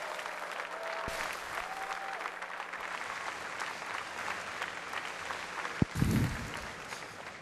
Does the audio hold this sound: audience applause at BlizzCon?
yes